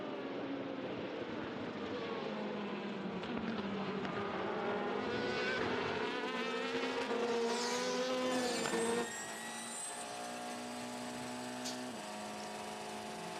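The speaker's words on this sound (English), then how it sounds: "Some high-speed overtaking." Race cars at the 2016 24 Hours of Le Mans overtaking at high speed, engines rising in pitch as they approach and roar past, then a lower, steadier drone after the cars pass.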